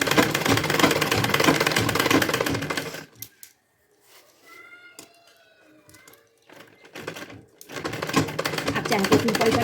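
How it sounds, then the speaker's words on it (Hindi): A sewing machine stitches a strip of a women's suit, its quick mechanical rattle running in short bursts during a quiet stretch between loud passages of background sound. "अब इस पट्टी पर भी कर दूंगी सिलाई।"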